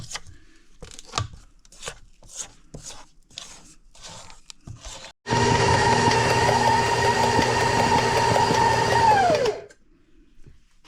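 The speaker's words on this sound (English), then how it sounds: "after about 3-4 minutes of beating medium high, look at how creamy this is" An electric mixer beats cream cheese frosting for red velvet cake at medium-high speed, a loud steady whirring drone for several seconds that then cuts off, with scraping and clattering from the bowl before it.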